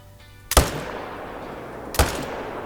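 Two sharp, loud rifle cracks in a hunting video game as a deer is shot, spaced about a second and a half apart over a quiet ambient bed, with no voices.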